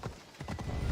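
A horse in Assassin's Creed Odyssey clip-clops along in a quick run of rhythmic hoofbeats, faint and brief, about four or five strikes in under a second.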